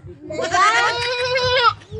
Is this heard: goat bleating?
yes